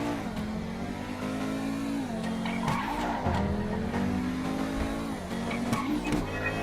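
A $2 million car drifts, its engine droning and revving steadily while tires squeal and skid in long warbling sweeps, loud and close.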